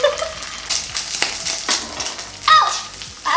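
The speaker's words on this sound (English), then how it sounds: "We're gonna fry both sides" Crispy rice sushi patties frying in hot oil on both sides, a steady sizzle broken by sharp crackles and pops, with a few clinks from a pan or utensil.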